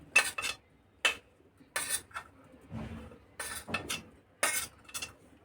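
Lemons drop one by one into a ceramic pickle jar, a series of sharp hard clinks and knocks in irregular bursts, fairly close and otherwise quiet.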